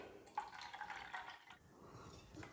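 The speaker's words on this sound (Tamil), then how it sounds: "இந்த தண்ணியையும் இதில் மசாலா அரைச்ச தண்ணியோட சேர்த்துக்கிடுவோம்" Cooking water from boiled moong dal is poured into ground masala, a faint, quiet splash and trickle of liquid lasting about a second, then fading into soft background noise.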